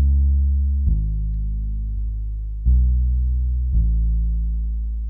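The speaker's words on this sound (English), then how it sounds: "So I'll play the bass on its own first" A deep bass line programmed in Logic Pro X for a modern Kompa and Afrobeat track plays on its own, a few sustained low notes entering one after another with soft attacks and slow decay, no other instruments.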